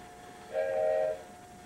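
A toy train gives a short whistle or horn toot of about half a second, fairly quiet and heard indoors against a faint background hum.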